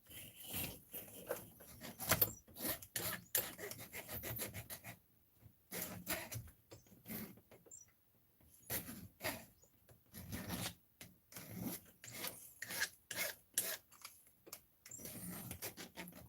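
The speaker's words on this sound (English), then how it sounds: "I just got to file this hub just to get rid of those" Hand filing to clear burrs from an RC car wheel hub on a Kronos XTR basher, heard as irregular bursts of close scraping strokes with short pauses between them, no talking.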